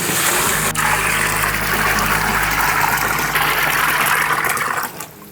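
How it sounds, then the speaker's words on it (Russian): Water gushes steadily into the tank of a garage bubble parts washer, a loud continuous rushing pour that runs for several seconds before cutting off near the end. "осталось залить этот бак водой"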